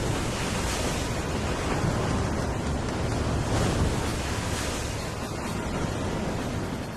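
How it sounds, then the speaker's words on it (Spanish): Hurricane winds roar over a stormy sea off a mangrove coast, with surf pounding continuously throughout, loud and dense with no break and no voices. "Hombres, animales y plantas sufren la violencia del viento y del mar."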